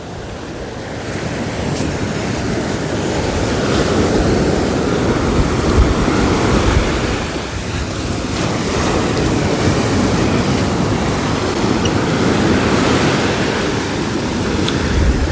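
Stormy sea waves crashing on the shore at Point Pedro during a storm, a loud continuous roar of surf with gusting wind buffeting the microphone, swelling and easing in long surges, with no voices.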